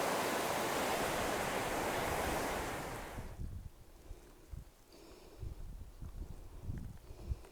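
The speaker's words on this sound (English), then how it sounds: "Crossing the Cadence River." Cadence River rushing loudly and close while a hiker crosses it on the Superior Hiking Trail, a dense steady roar for about three seconds that then drops away, leaving faint scattered thuds and rustles.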